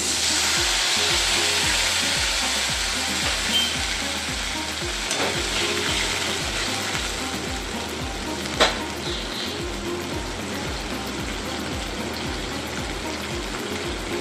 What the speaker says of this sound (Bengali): আদাটা যাতে না পুড়ে যায় তার জন্য আমি একটু অল্প জল দিচ্ছি।